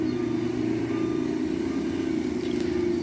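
A heavily loaded truck creeps down a steep mountain road, its engine a steady mid-range drone held evenly throughout, close and continuous with no speech.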